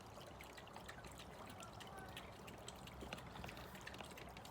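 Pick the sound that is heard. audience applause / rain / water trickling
water trickling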